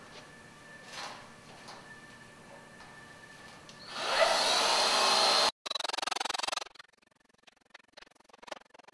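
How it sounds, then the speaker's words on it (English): A power drill bores rivet holes in a passive solar heater panel, whining loud and steady for about two and a half seconds, cutting out briefly, then running again before quiet clicks and handling noises. "that pretty much finishes up the drilling for the rivets"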